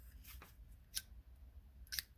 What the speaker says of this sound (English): I'm going to take my scissors again and just cut down around the outsides